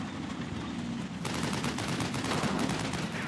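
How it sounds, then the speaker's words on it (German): Sustained bursts of gunfire in the video game Combat Mission: Battle for Normandy, dense and rapid, growing louder and more intense after the first second, with no voices. "ein Gegenfeuer kommt von der Flanke"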